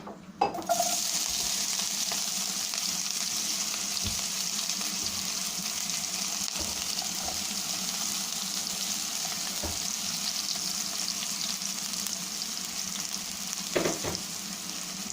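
Onions sizzle steadily in hot oil in a pan for mushroom masala, making a loud, continuous hiss with a few soft clinks and stirring taps.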